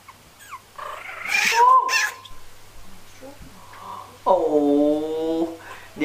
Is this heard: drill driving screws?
no